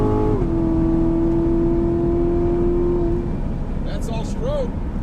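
A C7 Corvette pulls hard through a 60-130 mph roll, its engine a steady droning whine heard from inside that fades after a few seconds, with a faint voice near the end.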